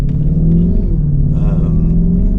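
A car's exhaust rumbles steadily with a deep, loud bark while the engine revs, staying close and continuous throughout.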